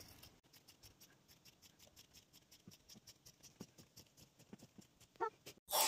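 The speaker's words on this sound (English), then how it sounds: "I'm just going to cut down the fold." Scissors snip through fabric along a fold, a steady run of short, crisp cuts at close range with no talking, ending in a louder rustle of cloth.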